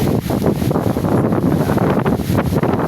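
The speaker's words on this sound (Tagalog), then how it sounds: "Sobrang lakas ng hangin." Strong, roaring typhoon wind in the Bicol region buffets the microphone continuously, loud and turbulent with gusting surges and no letup.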